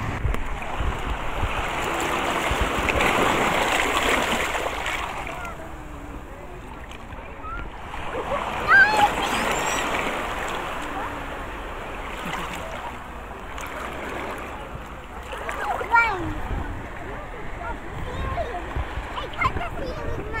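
Ocean waves in Palawan wash and splash in repeated surges, a broad hissing roar rising and fading, with people talking over the water throughout.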